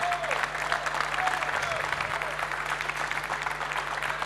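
An audience applauds at an installers' trophy award ceremony with a dense, steady wash of clapping throughout, and a faint tone hums beneath it.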